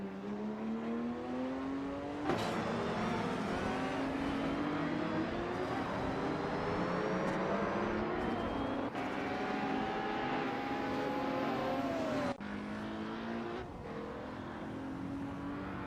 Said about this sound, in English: We're about to watch some thrilling racing action with our powered cars